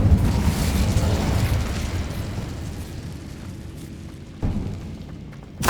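A fire spell cast in the video game Hogwarts Legacy: a loud, roaring burst of flame that slowly fades, followed by a second short whoosh near the end.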